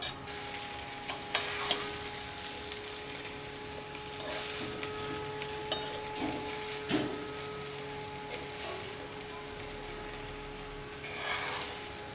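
Cinnamon, bay leaves, cloves and cardamom fry together in oil for fried rice, giving a quiet, steady sizzle with occasional soft crackles and stirring scrapes and a faint electrical hum beneath.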